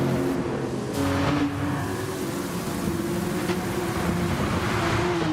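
Porsche race car engines droning in a racing video game set at the Nürburgring, a steady, continuous roar holding at a near-constant pitch with no speech.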